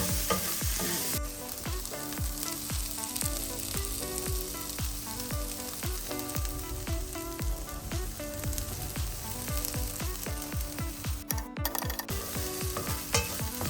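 Chopped tomatoes fry in a pan with steady dense sizzling while a utensil stirs them in a quick repeated scraping rhythm, close and continuous with no voices.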